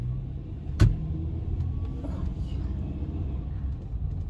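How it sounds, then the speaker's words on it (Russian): A car idles or rolls nearby with a low steady rumble and a brief whirring sound near the start, and no talking is heard. "Боже, какая тачка."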